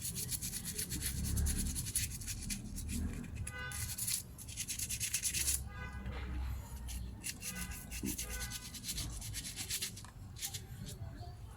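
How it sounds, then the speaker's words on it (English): Mountain bike brake pads being scrubbed and cleaned by hand, producing bursts of dry rubbing and scraping strokes that come and go, close up and moderately quiet. "Rough cleaning the edges, everything that's the dust, and clean also the mount"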